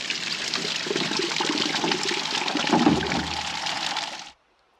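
Water pours and overflows from large water totes in an off-grid water system, a steady loud splashing rush that runs continuously and then cuts off abruptly near the end.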